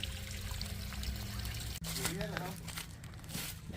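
Water pouring and trickling back into a hydro-fracked water well after the packer pressure is released, a steady splashing flow that runs close and fairly loud throughout.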